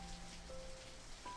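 Rain falling on a roof on a windy night, with wind pushing through the trees: a soft, steady, even patter with faint tonal traces, heard alone.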